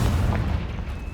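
The Confringo blasting spell in Hogwarts Legacy goes off as a short, muffled boom with a low rumbling burst that fades quickly, heard alone without talk.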